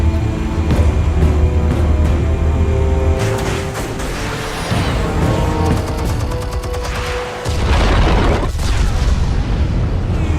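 Explosives detonate in Batman: The Telltale Series, a dense run of loud booms and blasts stacked over a continuous game score, with a brief dip before a final heavy surge.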